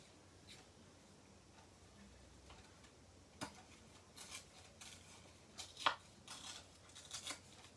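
Paper torn by hand for a handmade card, heard as a few quiet, scattered rips and rustles in a near-silent room, with the louder tears clustered toward the end.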